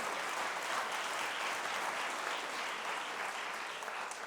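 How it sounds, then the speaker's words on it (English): A school-event audience gives a dense, continuous round of applause that holds steady and fairly distant throughout, with no voices standing out. "let's give another round of applause to Mr. Daughtry"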